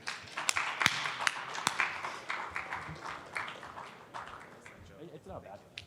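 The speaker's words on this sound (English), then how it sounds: "giving a round of applause to Joe Brown of Heresy Financial" Audience applause for Joe Brown of Heresy Financial at a talk on money, a burst of clapping from a room of listeners that starts loud and gradually thins out.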